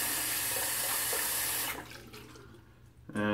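Tap water runs steadily into a shaving bowl at close range, then the flow is cut off and a faint trickle and drip remain before a brief clatter at the end.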